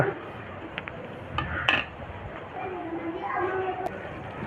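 Ground coriander, dried red chilli powder, asafoetida and salt being stirred together in a pan for a South Indian-style potato dish, with metal utensil scrapes and clinks against the pan over a low sizzle, a burst of clattering near the start.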